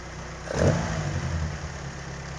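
A Kadett GS engine with a Solex C40 ADDHE carburettor running on ethanol idles steadily at mid distance, with a brief swell in the low rumble early on before it settles back to an even idle.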